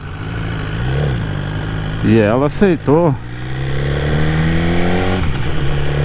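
A motorcycle carrying a passenger rides through the centre of Farroupilha, its engine a steady, close drone throughout, with a voice talking over it.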